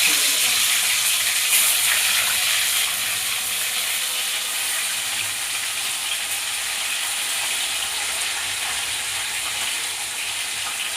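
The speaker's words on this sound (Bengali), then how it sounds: "মাছগুলো হালকা আঁচে আমি অল্প অল্প করে ভেজে নেব।" Fish fries in hot oil over a low flame, giving a steady, dense sizzle with bright crackling that stays near and even throughout, with no voices.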